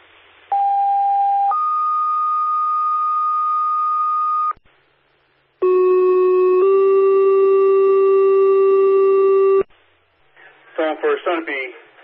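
Fire dispatch alert tones for a supermarket fire in New London, New Hampshire: two long two-tone sequences of steady pitched beeps, loud and clear over radio, followed by the dispatcher starting to speak.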